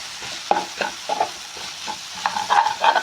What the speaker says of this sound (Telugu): ఈ టమాటా, ఈ ఉల్లిపాయలు ఈ కారంలో బాగా వేగాలి